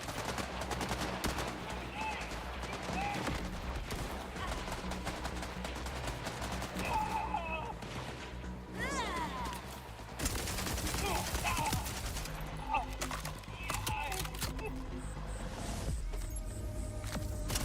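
Rapid bursts of video game gunfire rattle almost continuously, dense automatic fire layered with heavier blasts and effects, loud and close throughout.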